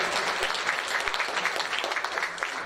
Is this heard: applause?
yes